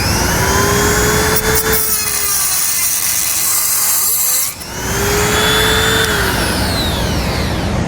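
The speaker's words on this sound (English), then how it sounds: "We're going to use a cutoff wheel on a rotary tool or whatever you may have" A rotary tool with a cutoff wheel grinds through a metal stud on a 2016 vehicle during a base plate install, a loud, steady high whine that dips briefly midway and then resumes at full strength.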